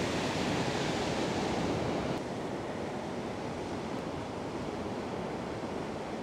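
Rough sea at high tide breaking on a sandy beach on the Sri Lankan coast between Galle and Colombo: a steady, dense roar of surf with slight wind rush, continuous throughout and with no voices.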